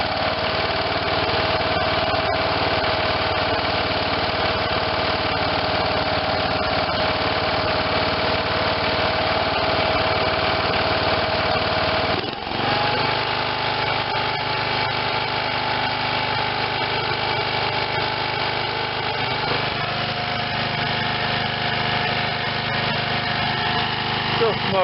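A 1986 Lawn Chief 300 riding mower with a Briggs and Stratton 8hp engine runs steadily and loudly throughout, a continuous droning idle with a steady tone and brief dip midway, smoking muffler after long storage.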